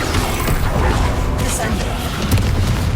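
The Bombarda spell detonates in the Hogwarts Legacy video game with heavy, booming blasts and crashing debris, packed into a loud, dense wall of combat noise with voices mixed in.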